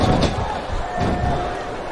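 Capacity crowd in the wrestling game SVR 2007 on Xbox 360, a loud roaring swell of cheering with heavy thumps from the ring, steady and close throughout.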